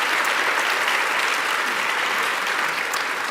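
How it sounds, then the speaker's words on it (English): Sustained audience applause fills a conference hall at an opening plenary on climate, steady and dense throughout with no talk over it. "please join me in a round of applause"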